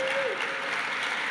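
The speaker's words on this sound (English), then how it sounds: "a round of applause to him" A lecture-hall audience at a Hubble Space Telescope 25th anniversary tribute applauds, a steady, fairly dense clapping held evenly throughout, with a brief tone at the start.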